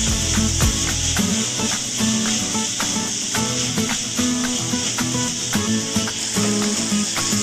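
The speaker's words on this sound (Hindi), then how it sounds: "देखिए फ्रेंड्स, कैप्सिकम भी अच्छे से फ्राई हो गई है" Capsicum fries in a pan for paneer bhurji, a steady soft sizzle and hiss with occasional scraping, running continuously beneath tuneful background music.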